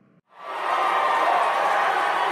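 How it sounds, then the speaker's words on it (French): Applause and cheering for Alberto the cosmonaut at a Plotagon show: a brief pause, then a dense, steady wash of clapping and crowd noise that swells up and holds loud without a break. "faites un tonnerre d'applaudissements pour Alberto le cosmonaute"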